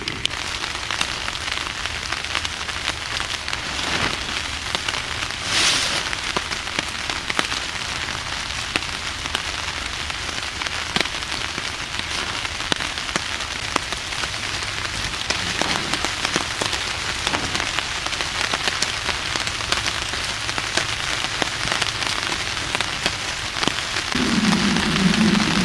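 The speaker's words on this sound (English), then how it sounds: "it's absolutely pouring out right now" Heavy rain pours steadily onto a shelter and gear during a wet night of bushcraft camping, a dense, continuous patter close by with occasional louder drops and no voices.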